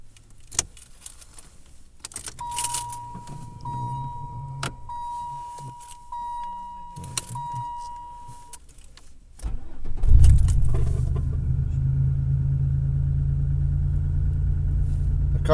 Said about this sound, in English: Now I might as well do a cold start.